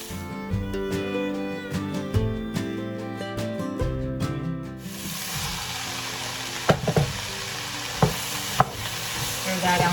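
Carrots and cabbage get stirred into a pot of soup, a scraping, sloshing stir over a steady sizzle, with a few sharp knocks of the spoon against the pot near the end; music plays at the start.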